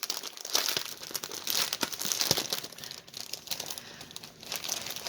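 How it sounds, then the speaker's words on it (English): Plastic packaging crinkles and rustles in irregular bursts while a pre-stamped cross stitch kit is unbagged, close and fairly loud, with no talking. "Sorry for the crinkling."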